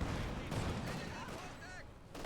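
Pak 40 anti-tank gun firing in the strategy game Company of Heroes 2, a heavy booming report mixed into dense battle noise, with a commentator's voice talking over the action.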